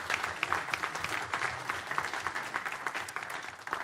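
Applause from an audience at an evening council meeting, a steady patter of many hands clapping close by for about four seconds with no voices over it.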